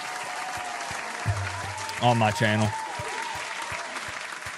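Studio audience of Miami fans at a late-night sports talk show clapping: a scattered patter of claps beneath someone talking, fairly quiet throughout.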